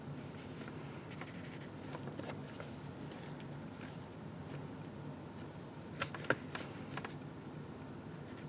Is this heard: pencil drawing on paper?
yes